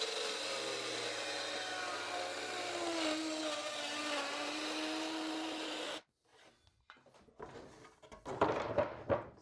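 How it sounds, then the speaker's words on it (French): Power saw cutting wood for a wooden lamp, a steady loud whine for about six seconds that stops abruptly, followed by scattered clunks and handling of the cut pieces. "Ça fait vraiment du super boulot cette scie."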